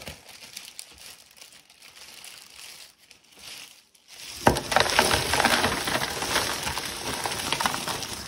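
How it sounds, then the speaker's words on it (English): Bagged grocery store ice dumped onto rope, a sudden loud clattering crunch and rustle that starts midway after quiet plastic bag crinkling and continues steadily to the end. "dump the ice on there"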